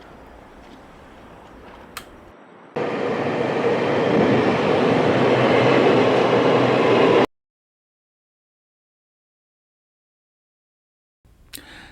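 Train ride in Pingtung City, a soft interior hum giving way to a loud steady rush of rolling rail noise for several seconds, then an abrupt cut to silence.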